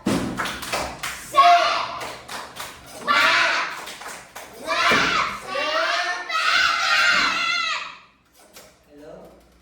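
Children in an Islamic classroom clap a rhythmic spirit clap together, a run of close, loud patterned claps and thumps mixed with their shouting voices, ending in quieter taps.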